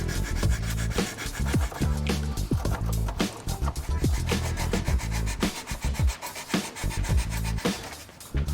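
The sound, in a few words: cutting black plastic strip off radiator panel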